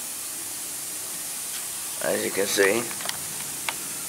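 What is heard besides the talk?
lawn sprinkler spraying water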